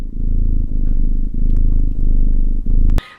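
A human voice imitates a cat purring, a loud, close, continuous low rumbling with steady rhythmic pulses and a few brief breaks, ending abruptly with a short noise.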